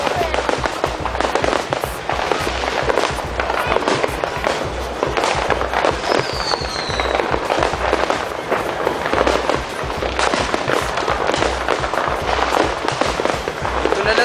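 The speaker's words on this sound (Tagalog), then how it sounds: "mas maganda mga fireworks dito" Dense fireworks display crackling and popping continuously at a celebration, loud rapid bursts with people talking and exclaiming throughout.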